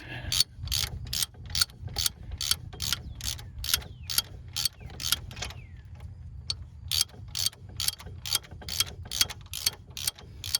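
A ratchet tightens bolts on the rear hub of a 2007 Cadillac SRX, giving a long run of rapid, evenly spaced clicking strokes with a short pause midway, close and clear over a low background hum.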